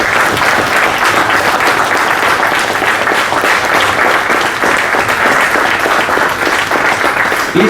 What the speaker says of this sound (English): Please join me in welcoming him with a huge round of applause.